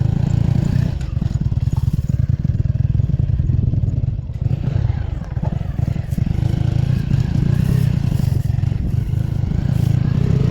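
A motorcycle hauling harvested rice along a rural track, its engine droning steadily and close by with clattering and thumping from the load throughout, no talk.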